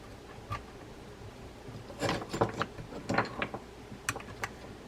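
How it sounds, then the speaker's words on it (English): Close mechanical clicking and short ratcheting bursts as the nut cap is tightened onto the handle of a Shimano Cardiff round baitcasting fishing reel, quiet apart from a few denser clusters of clicks. "tighten the nut cap down"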